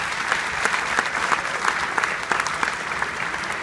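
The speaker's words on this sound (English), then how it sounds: "so if you could also give them a round of applause" A crowd applauds steadily at an eighth-grade spring band concert, a dense patter of many hands clapping at close range that holds at an even level throughout.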